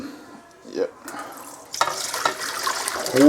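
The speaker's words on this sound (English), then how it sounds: "get a colander, put it in the sink, and just pour" Shredded beef and its broth pour from a pot into a colander set in a kitchen sink, a muffled start giving way to a louder, steady splashing gush of liquid draining through the metal.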